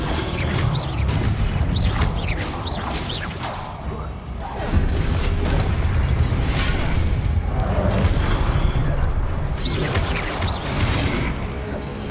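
Explosive blasting spell bursts in a Hogwarts Legacy combat fight, with repeated loud crashing booms and whooshes over a busy, sustained game soundscape.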